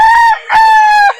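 A rooster crows loudly and close at a chicken market in Calauan, Laguna: two strong, drawn-out calls, the second longer, with nothing else heard behind them.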